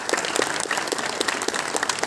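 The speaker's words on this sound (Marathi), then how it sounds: "जोरदार टाळ्या झाल्या पाहिजेत मोहन जोशी सर यांच्यासाठी." Audience applause honouring veteran actor Mohan Joshi at a lifetime achievement award ceremony, a dense steady burst of many hands clapping close by for about two seconds.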